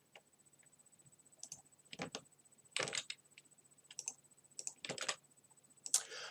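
Keystrokes on a computer keyboard as an equation is typed into Excel, coming in short irregular bursts of clicks with brief pauses between them, close and fairly quiet, with no talking.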